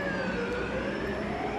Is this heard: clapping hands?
no